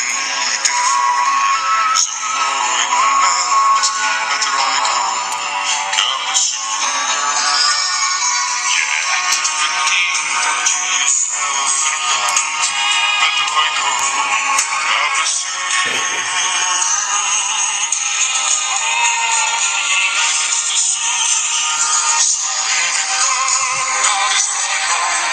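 A Cup a Soup ringtone plays loudly from a phone, a continuous bright melodic tune running steadily from start to finish without any talk.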